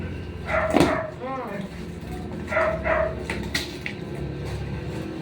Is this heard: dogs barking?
yes